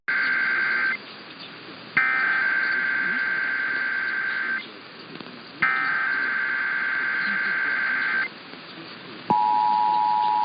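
Emergency Alert System test tones: loud, steady two-tone attention signal in long bursts separated by brief gaps, ending with a single lower steady tone, over faint background noise.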